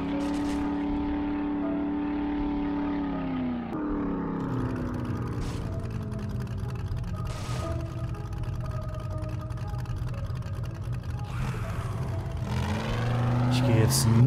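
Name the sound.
car driving in 7 Days to Die video game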